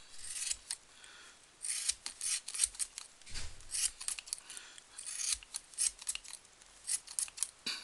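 Scissors snip across a tassel pompom to trim it straight, producing a run of crisp, close cutting and rasping strokes in an irregular rhythm, quiet and alone.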